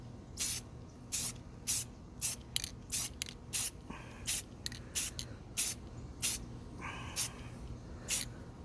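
An aerosol spray can paints a car side mirror cover in about fifteen short, sharp hissing bursts, close and evenly paced with brief pauses between them.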